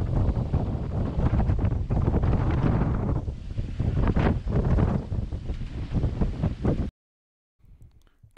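Strong wind buffets a sailboat heading dead upwind in 20 to 25 knots off chilly New England. It roars loud and steady for about seven seconds, then cuts to near silence before a faint return.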